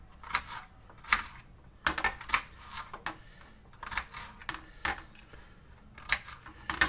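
A knife cuts up food on a cutting board while pasta and gravy are prepared at home, producing quick clusters of light, crisp taps and knocks in an irregular rhythm, close and fairly quiet.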